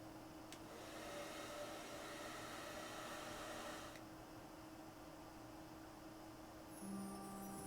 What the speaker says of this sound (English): And now we need to dry the wig because it's covered in bleach. The hairdryer was perfect.